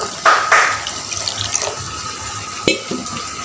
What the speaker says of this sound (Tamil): கட்டி இல்லாமல் நல்லா மூழ்கிற அளவுக்கு நம்ம தண்ணி சேர்த்திக்கலாம்